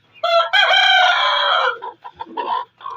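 An Aseel hen lets out loud, drawn-out clucks and squawks up close as she is set to brood on eggs, followed by a few shorter, softer clucks.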